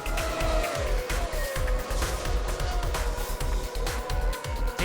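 A1GP single-seater race cars overtaking one another on a circuit, a loud continuous engine roar with rising and falling pitch sweeps as cars pass close by, plus brief tire noise.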